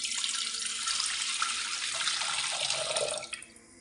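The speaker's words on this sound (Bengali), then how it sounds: "আমি এখানে বৃষ্টির পানি দিয়েছি" Rainwater pouring from a container into a cooking pot for making tea, a steady close splashing stream that lasts a few seconds and then stops abruptly.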